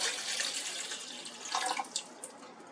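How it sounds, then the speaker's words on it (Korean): Bottled water, about 500 cc, pours into a pot as a brief close splashing stream with gurgles toward the end, no talking. "물 500cc를 넣고 한번 끓여보도록 하겠습니다"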